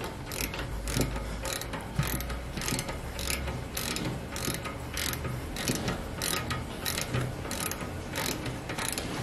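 A ratchet tool clicks steadily in quick repeated strokes while tightening a screw on Mitsubishi electric trailer brakes, a dense close-up rhythm of metallic pawl clicks with no talk.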